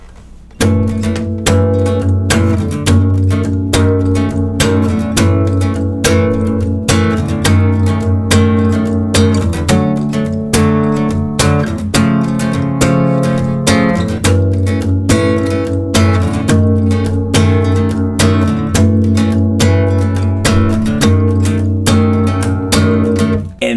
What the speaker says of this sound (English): So the second time through, the verse chord progression will sound like this.